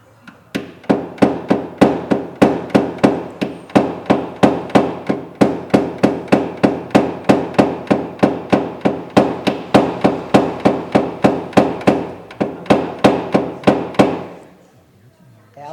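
Rapid, evenly spaced metallic hammer taps working out a small dent in a car body panel, dozens of sharp, loud strikes in a steady rhythm that stop near the end.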